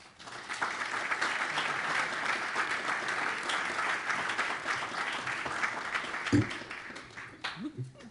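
A lunchtime audience at a Naval Academy conference applauds steadily to welcome Vice Admiral Michael Rogers, a broad even wash of clapping that tapers near the end with a few thumps and murmurs.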